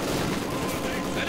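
Panzer IV tank cannon and gunfire in a Company of Heroes 2 battle, a dense, continuous rumble of shots and blasts mixed with other battlefield fire, loud and steady throughout.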